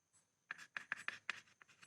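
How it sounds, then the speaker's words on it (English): Pen or marker strokes writing out an assignment problem statement, a quick series of short scratchy bursts close up, with no talking. "I will write the statement for this problem."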